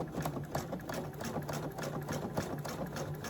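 A sewing machine stitches a quilt, the needle lowered at a seam join and run slowly around a gentle curve; its steady, even whirring motor and rapid needle chatter continue at close range with no pauses.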